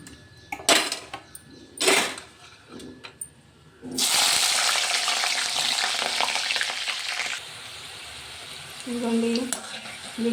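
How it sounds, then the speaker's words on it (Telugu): Green chillies hit hot oil after curry leaves and fry for a snack mixture with a sudden loud, steady sizzle, preceded by a few kitchen clatters and followed by a lighter frying hiss. "ఆ నూనెలో పచ్చిమిరపకాయలు కూడా వేయించేసుకుందాం"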